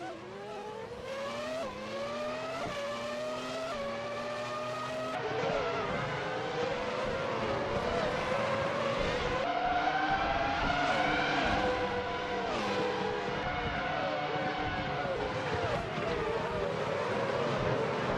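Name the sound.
race cars driving in a racing video game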